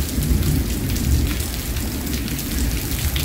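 Heavy rain pours down outdoors beside a backyard pool, a loud, unbroken hiss of drops drumming on surfaces with no voices over it.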